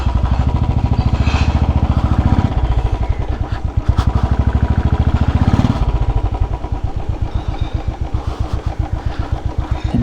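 A Royal Enfield Classic 350 single-cylinder motorcycle thumps with a steady, loud, close low pulse on a ride through Kathmandu, the beat quickening and easing slightly as the throttle changes.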